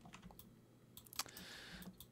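Computer keyboard keys pressed in short scattered clicks while working in Maya 3D modeling software, close and fairly quiet with brief pauses between taps.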